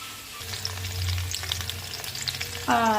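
Potato and radish pieces frying in a pan, a close, steady crackling sizzle, with a brief tonal whine cutting in at the very end.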